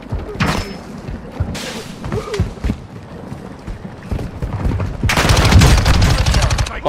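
Bursts of automatic gunfire and thuds from a shooter video game, with sporadic shots early on and then a dense, loud volley of rapid fire toward the end.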